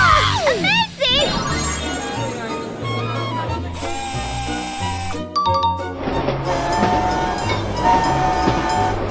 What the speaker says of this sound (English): The train has passed.